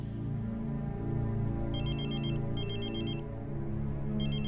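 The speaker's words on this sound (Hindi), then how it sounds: "12 बजे अंतरा के फोन पर रुद्र का कॉल आया।" A mobile phone rings with an incoming call in three bright, repeating electronic bursts that cut over steady background music.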